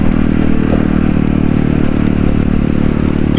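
Around seven motorcycles in a student convoy pass close by on a road toward Pondok Kopi, producing a loud, continuous engine roar with rattling and crackling over the whole stretch.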